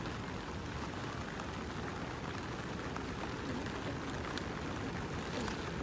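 Steady rain pours down continuously, a dense hiss of drops pattering on surfaces with no pauses and no voices.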